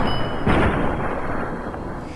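Gunfire in the video game Fallout: New Vegas: a loud, dense blast of shots that swells around the half-second mark, then settles into a continuous rumbling barrage for the rest of the moment.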